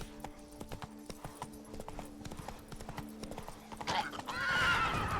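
Roach, a horse in the Witcher 3 video game, runs with rapid clip-clop hoofbeats, a brief whinny, and a swelling whoosh of in-game ambience near the end.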